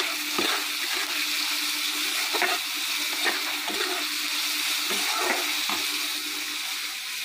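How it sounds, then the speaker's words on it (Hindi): Onions and green chilies with a little salt fry on a hot pan while making masala dosa, giving a steady close sizzle broken by repeated scraping stirs. "इस तरह से प्याज डाल करके मैंने यहाँ पे फ्राई कर रही हूँ दोस्तों।"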